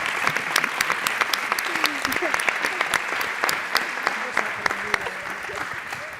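Audience at a round-table session on social sustainability and rights applauds in a sustained, dense burst of clapping with sharp individual claps standing out, and voices faintly underneath.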